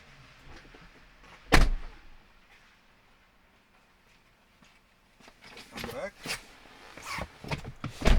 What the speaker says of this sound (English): let me close the door because otherwise you won't see what this guy does